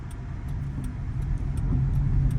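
A car on a driving road test in Doha, Qatar pulls away and speeds up, its engine a steady low hum that grows gradually louder, with faint light ticking above it and no talk.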